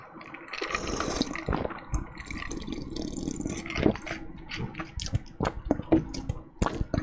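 Water splashes and gurgles as it is poured into a container, with irregular clinks and knocks throughout and no talking.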